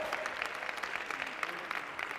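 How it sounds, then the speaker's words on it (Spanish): An audience applauds after a performance, a steady wash of clapping at moderate distance with no speech over it. "Damos el aplauso."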